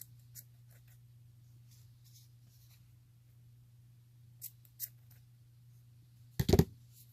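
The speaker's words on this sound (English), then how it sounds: "Now if I take my scissors," Scissors trimming paper for a junk journal made from a repurposed hardcover book: a few faint snips, then one louder, close cut near the end over a steady low hum.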